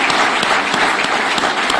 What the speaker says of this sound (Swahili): Wapige makofi yao warembo jameni.